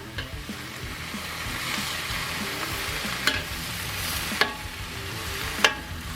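Two kinds of mushrooms fry in a pan with a soft, continuous sizzle, broken by a few sharp clicks of a utensil against the pan.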